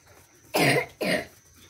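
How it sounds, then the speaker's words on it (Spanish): A child gives two short, harsh coughs in quick succession, close and fairly loud, with quiet room noise between them. "tiene un poquito de tos"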